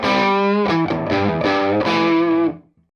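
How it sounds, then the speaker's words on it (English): A distorted electric guitar through an amp, with treble sent into compression for a warmer, less fizzy tone, plays sustained, harmonically rich chords loudly and alone before fading out. "So you end up with a warmer distortion."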